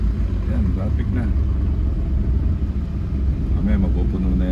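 Road traffic on Naguilian Road in Baguio rumbles in a low, steady drone of car engines nearby, with people talking over the top throughout.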